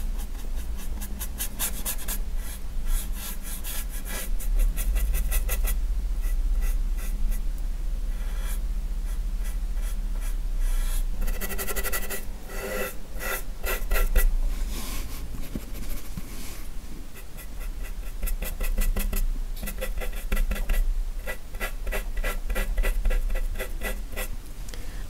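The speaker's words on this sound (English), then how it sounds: "I'm using very little paint here to create this effect, just sort of rubbing it into the previous dry layer." Close, soft scratchy rubbing of a paintbrush working thin acrylic paint into a dry layer, in steady repeated strokes with brief pauses, and no talk.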